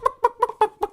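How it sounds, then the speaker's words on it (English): Chickens cluck in five quick, evenly spaced calls on an album recording, loud and close with no talking. "It's the chickens, and they go."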